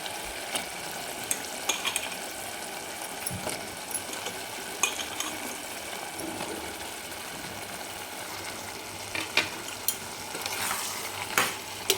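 A spoon stirs an eggplant and potato curry in a hot pan, scraping and clinking with occasional sharp taps over a constant close sizzle of frying.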